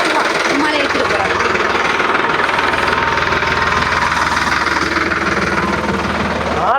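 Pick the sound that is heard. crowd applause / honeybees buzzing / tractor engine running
tractor engine running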